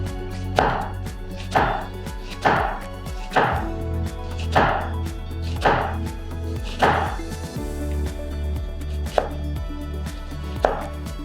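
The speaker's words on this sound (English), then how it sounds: "we are just going to hold the onion at the back and slice the onion from the side" A knife slices through an onion held at the back, cutting from the side: a steady series of crisp, close chops on a board, about one per second, with no talking.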